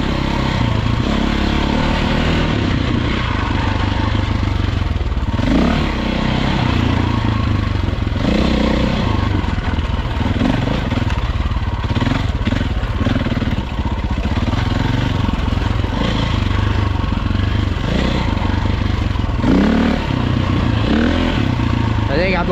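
Several motorcycles warming up before a ride on a mountain outing, a loud continuous rumble of idling engines with occasional revs, close by, with voices talking over the noise.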